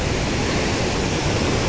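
Waves wash onto a quiet, secluded private beach, heard as a loud, unbroken broadband roar of surf that stays steady throughout.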